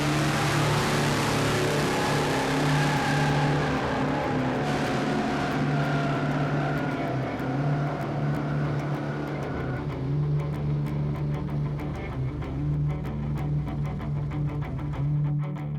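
A 620-horsepower 1967 Chevy C10 street truck accelerating hard, a loud sustained engine roar that climbs in pitch, then drops as the throttle lifts and fades with a lower drone.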